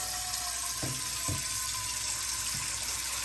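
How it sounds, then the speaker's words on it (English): Tap water runs in a steady, hissing stream into a cooking pot, with a few soft knocks and clunks from the pot during the filling. "go ahead and put some water in a bowl or in this pot"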